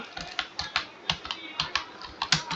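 Typing on a computer keyboard while entering a search into Google: a quick, irregular run of close, crisp key clicks, some in rapid bursts, with no talking.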